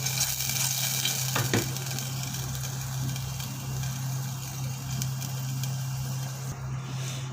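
Garlic frying in oil while stirred: a continuous hiss and sizzle under a low steady hum, with a few sharper scrapes of the spoon against the pan.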